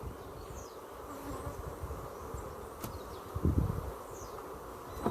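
Honeybees buzz faintly around a brood frame in a hive, a soft, continuous hum with light rustling and a brief clunk of handling near the middle.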